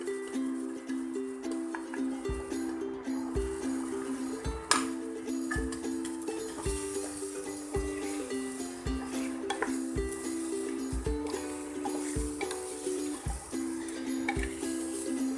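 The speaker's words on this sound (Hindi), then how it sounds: "मसालों को मटन में अच्छे से मिक्स कर लेंगे" Powdered spices are stirred into mutton in a pot for Mughlai mutton korma, with soft repeated scraping, squelching and clinking of a spoon at a low, steady rhythm under a faint background hum.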